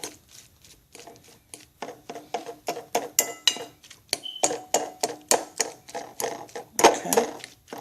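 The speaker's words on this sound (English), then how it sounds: "I'm going to finish chopping this up." Knife chopping ingredients for savory salmon croquettes on a cutting board, a quick run of sharp, close taps in a steady rhythm, with no talk over it.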